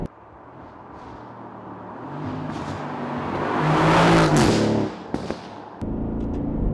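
Exhaust of a Mercedes-AMG GT or Aston Martin Vantage sports car revving up through the gears, rising to a loud roar, then a few sharp pops and crackles as the revs drop, no talk.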